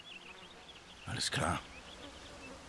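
Flies buzz in a forest in Final Fantasy 16, a faint, thin, wavering drone that runs throughout, while a voice speaks briefly in the middle.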